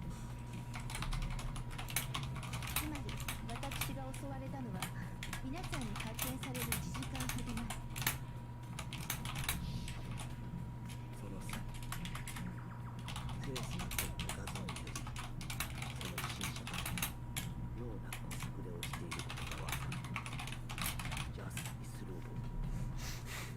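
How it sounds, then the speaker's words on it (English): Steady typing on a computer keyboard runs throughout, with rapid close key clicks in bursts over a constant background hum and some faint voice sounds. "I'm gonna go type a thing in my chat."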